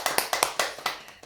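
Applause from a church congregation after a prayer, a quick run of about nine sharp claps at close range, alone with no talk.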